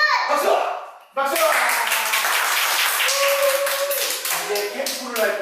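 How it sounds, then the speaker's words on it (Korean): Children at a summer Bible school clap together in a dense, lively burst that starts abruptly after a short spoken call, with young voices chattering over the rhythmic patter of hands. "박수! 박수!"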